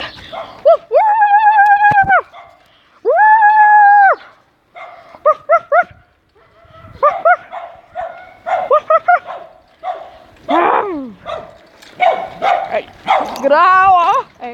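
A dog barks repeatedly near a motorbike rider doing a wheelie in the street. The barks come in loud bursts with yips mixed in, while someone talks over them.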